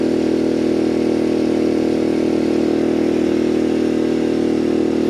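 Small generator running under about 200 watts of load while charging an Anker Solix F3800 Plus power station, a steady, loud, close mid-pitched engine hum with no variation.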